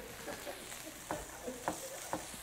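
A spoon stirs a pot of heart-shaped macaroni and cheese on a home stove, giving a few soft, faint scraping strokes over a low background hiss with no talking.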